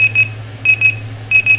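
A custom Roger beep from a Stryker 955 CB radio sounds as three pairs of short, sharp electronic tones over a steady low hum, evenly spaced and loud, with no voices.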